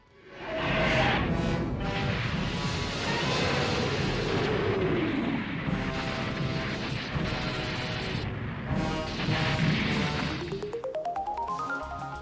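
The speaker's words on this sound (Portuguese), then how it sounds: "são basicamente 3 raios de energia que saem pelas suas bocas e que causam mega explosões" Booming energy-beam blasts and huge explosions from the three-headed monster Ghidorah in Godzilla: King of the Monsters, a loud, dense roar of blasts and rumble with rising shrieking tones near the end.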